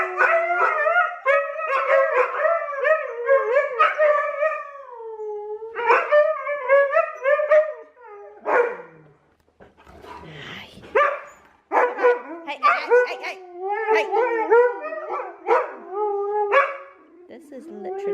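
Puppies yip, bark and howl close by in long, wavering, high-pitched bursts, several voices overlapping in an excited chorus.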